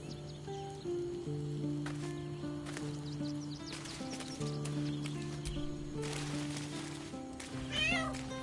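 Meows from a cat in the video game Baldur's Gate 3 rise over a steady backdrop of layered game music and ambient tones, with a few short cries scattered across the scene and one more pronounced near the end.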